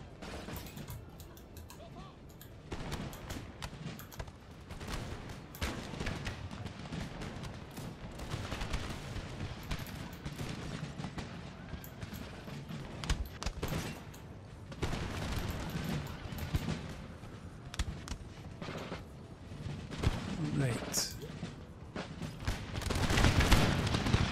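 Musket volleys in Empire: Total War, a dense, distant crackle of overlapping gunfire that runs on and swells toward the end, with no talking.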